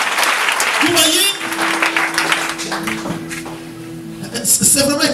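Church congregation applauding during a service, dense clapping and cheering that dips briefly and then swells again, with sustained tones from instruments or voices underneath.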